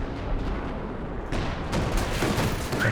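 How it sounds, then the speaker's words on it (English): Artillery fire in the Company of Heroes 2 strategy game, with rumbling low blasts and crackling impacts that run together into a dense, continuous barrage. "Major artillery in the centre"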